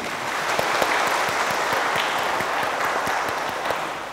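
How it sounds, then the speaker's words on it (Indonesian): A crowd claps steadily for several seconds, the applause even and moderately loud throughout with no voices standing out. "Beri tepuk tangan."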